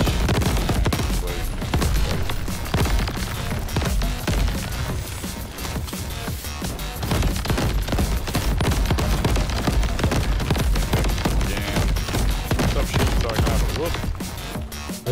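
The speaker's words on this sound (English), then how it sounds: "It's just rockets, it's not like big explosions." Rapid, dense bursts of rocket explosions in the video game Crab Champions, a near-continuous loud barrage of crackling blasts with little pause throughout.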